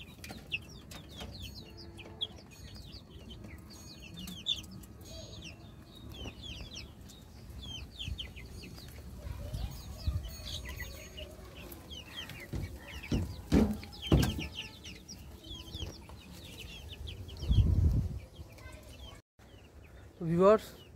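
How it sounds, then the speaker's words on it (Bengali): Fayoumi roosters and hens cluck on and off in a farmyard, with scattered clucks and calls rising to a few louder squawks near the end, and people's voices running underneath. "এই যে এই 2টো মোরগ, এই যে এখানে যে 3টা আছে 3টাই মোরগ ফাউমির"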